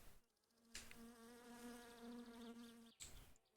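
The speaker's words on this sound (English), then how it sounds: "I keep hearing the, like, mosquitoes from being dirty" Mosquitoes drone around a dirty player character in the video game My Summer Car, a close, steady whining buzz lasting a few seconds and cut off abruptly near the end.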